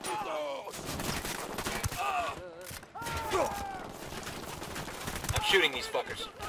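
Gunfire against enemies in Ghost Recon Wildlands, with dense, rapid shots and cracks throughout, mixed with voices and groans in a chaotic firefight.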